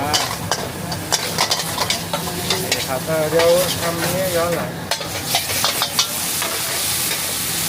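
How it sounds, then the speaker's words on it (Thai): Holy basil without chili is stir-fried in a hot wok at a Chiang Mai street stall, with a continuous loud sizzle, scraping stirs and spatula clinks while someone talks briefly. "ผัดกะเพราไม่ใส่พริกนะครับ"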